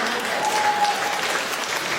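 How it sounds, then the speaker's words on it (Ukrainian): Audience applause at a Ukrainian women's stand-up comedy show, a dense, even patter of clapping from a full room lasting a couple of seconds with no talk over it. "клас, оплески"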